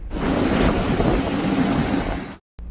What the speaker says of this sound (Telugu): ఇంజిన్ రూమ్లో ఉన్న నీకు బయట అలల చప్పుడు క్లియర్గా వినిపిస్తుంది